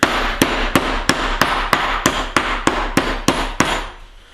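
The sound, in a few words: meat hammer pounding steak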